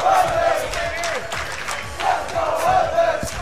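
A tournament crowd at a Dead or Alive 5 Ultimate top-eight match screams and cheers, a loud, continuous roar with surges of shouting that swell near the start and again toward the end.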